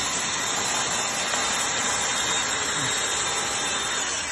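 A homemade lavender-processing machine whose chimney-cleaning brushes spin on a power drill instead of a motor, giving a steady, loud, continuous whirring and brushing drone with no break.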